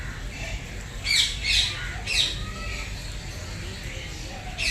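Caged birds at Kankaria Zoo in Ahmedabad give several sharp, shrill squawks in short bursts over a steady low background hum of crowd and ambience.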